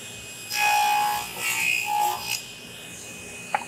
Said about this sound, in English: Raise the blade so it only cuts where I want it to.